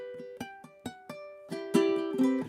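Ukulele tapping on a song, a run of separate plucked, ringing notes struck one at a time, some overlapping into brief two-note chords toward the end, played solo and close with no talking.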